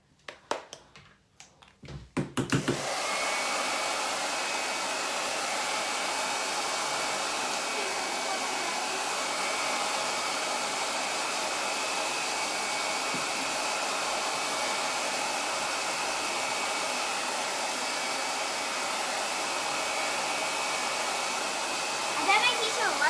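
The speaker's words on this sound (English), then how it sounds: "If they're not dry, you can blow dry them." A hair dryer blows steadily on a craft snowman, a loud continuous whooshing roar that starts after a few brief clicks and handling sounds and runs unbroken to the end.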